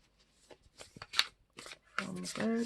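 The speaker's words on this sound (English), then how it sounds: "that's just my bad shuffling" Tarot cards being shuffled by hand in quick, crisp riffling bursts close up, with a voice speaking over the final second.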